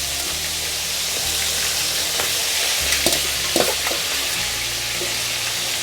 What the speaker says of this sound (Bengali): তারপরে কড়াইশুঁটি গোটা গোটা দিচ্ছি, সব ভেজে নিচ্ছি আমি।